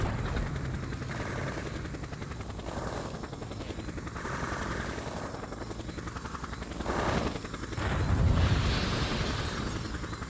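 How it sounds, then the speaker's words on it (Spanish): A helicopter in the Just Cause video game thrums steadily with a loud, continuous rotor drone, and explosive booms rise near the end. "hay un helicóptero que me está haciendo la vida imposible"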